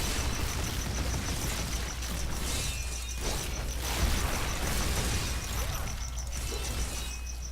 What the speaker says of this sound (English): Core explosion is ridiculously fun though